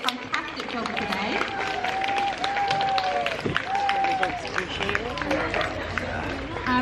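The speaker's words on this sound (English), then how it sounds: "Dogs are living for that applause." Audience applause for dogs at a dog show at Blenheim Palace, a sustained crowd clapping with cheering voices mixed in, steady throughout.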